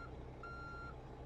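A truck's reverse alarm in American Truck Simulator sounds a few evenly spaced steady beeps over a low engine idle, quiet and with no talk.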